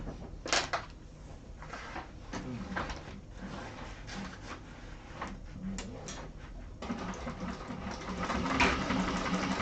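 A sewing machine bastes a seam during a sewing class, its motor running in a steady, moderately quiet stitching drone with small clicks and handling knocks, growing a bit louder and busier toward the end.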